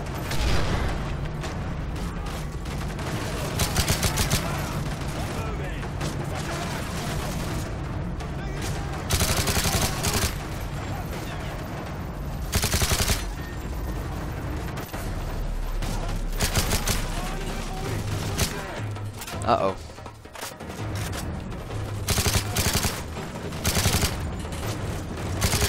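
Gunfire in Call of Duty: Modern Warfare 3, dense bursts of automatic fire and single shots with booms, loud and nearly continuous, with players talking over the battle.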